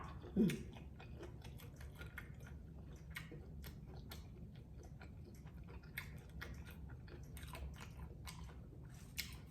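Fresh raw squid with a Thai cucumber salad being chewed close up, soft repeated wet bites and crunches in a steady irregular rhythm, faint and without talk.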